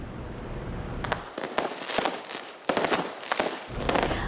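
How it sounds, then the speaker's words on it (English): A Diwali fireworks display at a Hindu temple in Winnipeg, with loud bursts and crackling explosions arriving in rapid clusters, some sharp bangs standing out against a continuous crackle, no voices. "Last night's rain did not stop this Diwali fireworks display."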